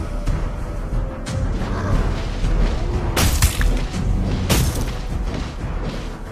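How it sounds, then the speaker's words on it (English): A turret being destroyed in Mobile Legends, with a steady roar of battle and two sharp crashing impacts in the middle of the clip, heard without talk. "Your team destroyed a turret!"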